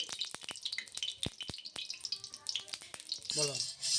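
Chicken seasoned with salt and turmeric drops into hot oil in a home kitchen, bursting into a loud, dense sizzle near the end after scattered crackles and pops.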